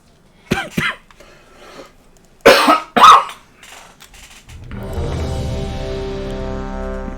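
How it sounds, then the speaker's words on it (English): A person coughs in two pairs of sharp bursts, one closely spaced near the start and another a couple of seconds later, during a raid-night online game session; a steady humming tone and music follow. "Sorry about the coughing."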